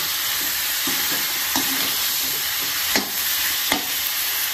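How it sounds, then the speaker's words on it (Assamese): Carrots and potatoes fry in a pan with a steady, bright sizzle, punctuated by a few sharp scrapes and clacks of stirring. "গাজৰখিনি দি দিওঁ এয়া মই দিলো গাজৰ আৰু আলু"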